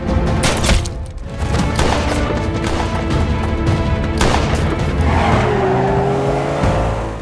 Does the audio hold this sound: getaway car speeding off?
yes